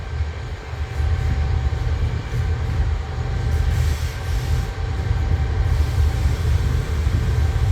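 Track maintenance trains running side by side on the southern line near Bang Sue, a loud, heavy, continuous low rumble of wheels and engines close by, with a faint steady whine riding over the drone.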